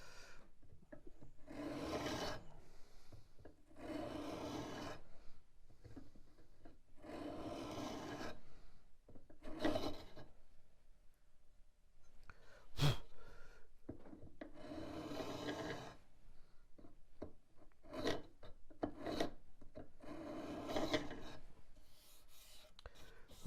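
A hand tool shaves small curls off the wooden part of a reproduction 18th-century Newport block-front chest, giving repeated scraping strokes in irregular bursts, close and clear, with short pauses between them and no talking.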